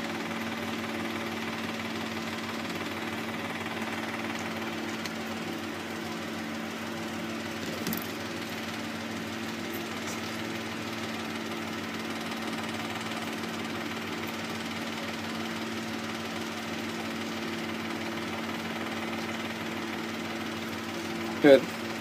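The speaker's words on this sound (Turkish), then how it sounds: "Vantilatör çalıştığı için biraz ses geliyor." A steady electric fan hums continuously at low volume, unchanging throughout, with a faint click near the end.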